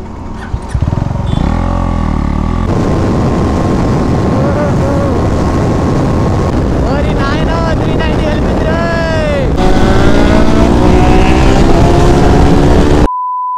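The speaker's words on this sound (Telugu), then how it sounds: "ఇప్పుడైతే మనం 390 వర్సెస్ డామినర్ డ్రాగ్ రేస్ అయితే తీయబోతున్నాము" Bajaj Dominar and KTM 390 motorcycles drag racing, engines revving hard with rising pitch sweeps as they accelerate through gears, loud and close with wind buffeting the microphone.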